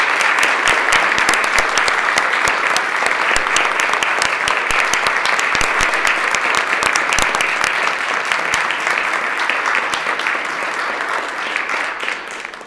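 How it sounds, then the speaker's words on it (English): Steady, dense applause from a crowd of legislators fills a state assembly chamber during a floor session, continuous handclapping that stays loud and close, easing only slightly toward the end. "I think that deserves a tremendous round of applause for them"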